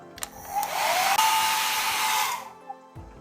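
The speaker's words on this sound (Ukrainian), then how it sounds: "або підсушуємо феном" A hair dryer drying watercolor paint on paper whirs steadily for about two seconds with a rising whine as it spins up, then cuts off, leaving a brief faint tap.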